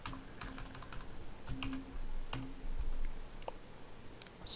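Typing on a computer keyboard while setting up AutoHotkey menus, with a steady run of light, irregular key clicks and a few louder taps, close up and with no talking.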